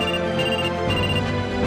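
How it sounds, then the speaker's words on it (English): A phone rings in the hospital video game Trauma Center: Second Opinion, a steady electronic ringtone with layered tones sounding continuously and clearly with no talk over it. "Phone call."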